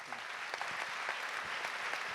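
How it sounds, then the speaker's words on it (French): Applause for a school deputy principal from Ambazac near Limoges at an ELA award ceremony, steady dense clapping from a sizeable audience filling the room for a couple of seconds. "Je vous demande d'applaudir M. Fabrice Laurentier"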